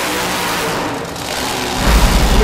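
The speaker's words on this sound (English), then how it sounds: "launching into another great wheelie and donut combination." Motorsport competition engine revving hard as a driver launches into a wheelie and donut combination, a steady loud roar that swells and deepens toward the end.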